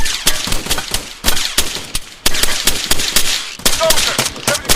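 Rapid bursts of machine gun fire ring out in a military video game, several loud, close volleys of automatic shots separated by short pauses, with crackling reports filling the whole clip.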